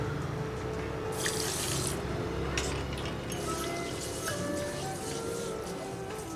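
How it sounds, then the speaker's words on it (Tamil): Foxtail millet is rinsed in water for a jaggery payasam, with a steady sink-like wash and pour of water, splashing bursts, and light drips running throughout at close range. "முதல்ல நம்ம திணையை போட்டு நல்லா கழுவிக்கலாம்"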